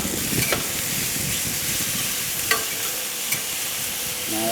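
Ground meat sizzles and crackles steadily in a pan in a parking-lot tailgate setup while being stirred and broken up, with a few sharp scrapes and clicks of the utensil and no talking.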